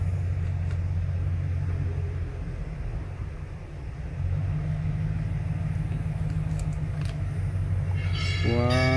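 A V8 car engine idling steadily with a misfire caused by a faulty oxygen sensor, a loud continuous low rumble throughout, without talk.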